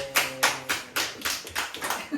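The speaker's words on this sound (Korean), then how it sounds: "박수!" A church congregation claps at a Sunday service, with a handful of distinct loud clap bursts in an irregular rhythm and a voice audible at the start.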